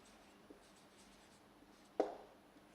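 Quiet chalk or marker writing on a board in a classroom, with a faint tap followed by one sharper stroke, close and otherwise nearly silent.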